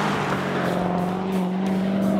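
Corvette C7 Stingray thrown hard through corners, its engine droning steadily with a sustained tonal hum, faint tire noise riding underneath at close range, no voices.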